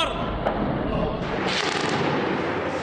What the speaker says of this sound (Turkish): bu görüntüler ağır bombardıman düzenlendiğini gösteriyor